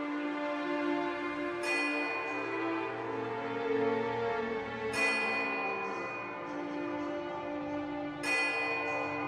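A small silver bell in a video game rings brightly three times at steady intervals, each strike shimmering and sustaining into the next, heard clearly on its own.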